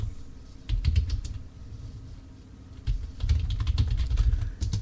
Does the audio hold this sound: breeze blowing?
no